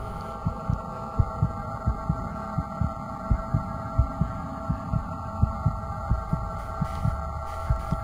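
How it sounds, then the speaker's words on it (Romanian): A heartbeat pounds steadily through a horror video game cutscene, regular throbbing thumps over a low droning hum with no talking. "Îmi aud pulsul în timpane"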